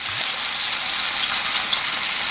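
Garlic fries with a bright, steady sizzle in a hot pan as soy sauce is added. The sizzle is close and continuous, with no talking.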